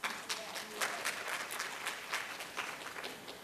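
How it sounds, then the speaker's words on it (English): An audience claps its hands together, brisk overlapping claps with a few distinct sharp hits standing out from a steady patter, moderately close and lasting a few seconds. "Can we have a hand clap for that?"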